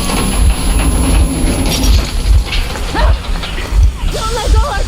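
Train starting up and rolling in the Metro Exodus video game, with heavy rhythmic mechanical clanks and thumps repeating steadily under bursts of game noise.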